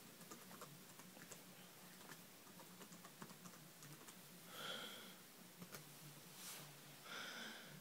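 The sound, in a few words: typing a password on a computer keyboard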